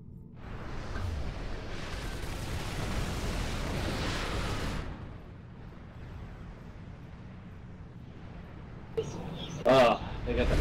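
Artillery bombards a base in the video game Supreme Commander, with a dense rumbling barrage of explosions in the first half that fades to a lower background roll, then a few brief pops near the end.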